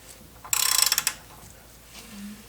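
A ratchet clicks rapidly about a dozen times, close and crisp, as a hand turns the crankshaft of a turbocharged Nissan S13 engine with its spark plugs removed, followed by quiet and a faint low hum.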